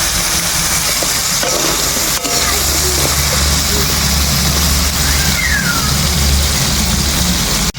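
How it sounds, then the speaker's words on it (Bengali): River crabs fry in hot oil in a wok over an earthen clay stove, giving a loud, steady crackling sizzle that runs unbroken from start to finish. "গরম তেলে কাঁকড়াগুলো ছেড়ে দিলাম।"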